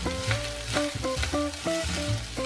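Eggplant fried rice with soy sauce is stirred and tossed in a hot pan, a soft sizzle under a rhythmic series of spatula scrapes and knocks about every half second.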